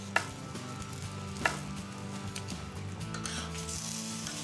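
Beef for stroganoff browns in a hot pan with a steady, close sizzle and hiss that never lets up, broken by two sharp knocks of utensil on pan near the start.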